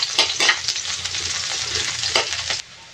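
Garlic and onion hit a hot pan and fry with a loud, bright sizzle, broken by several stirring scrapes, then the sound cuts off abruptly near the end.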